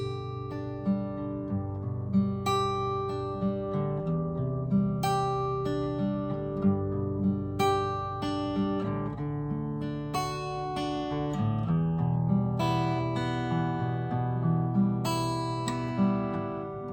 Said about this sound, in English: So all together, the finger picking pattern would sound like this.